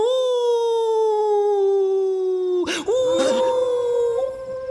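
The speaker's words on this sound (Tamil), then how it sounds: "தூரத்துல ஒரு நாய்" A dog gives a long, sustained, wavering howl that runs loud and unbroken, dips briefly with a rough catch, then carries on in a steady drawn-out tone.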